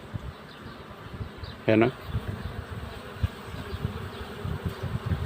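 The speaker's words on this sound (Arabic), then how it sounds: "شايفين النحل على الايد اهو" Honeybees hum softly around a beehive frame held in one hand, a low, continuous buzz close by with someone speaking briefly over it and a short, sharper tone standing out near the start.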